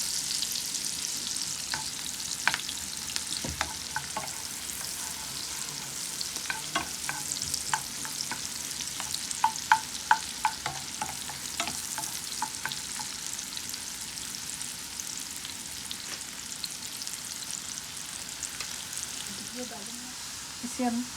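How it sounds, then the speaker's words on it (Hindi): Small chopped onion frying and browning in a pan for a dal tempering, a steady close sizzle broken by scattered crackles and spatula scrapes, with no talking. "छोटा सा प्याज दिया हमने, ये इसे ब्राउन करेंगे। इसका बघार बनाएंगे दाल का।"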